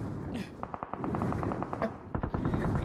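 Video game gunfire rattles in quick bursts of automatic shots, a steady string of sharp pops at moderate loudness over background game sound.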